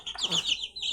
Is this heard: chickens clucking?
yes